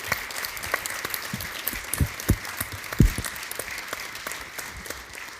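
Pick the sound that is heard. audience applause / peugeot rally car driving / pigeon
audience applause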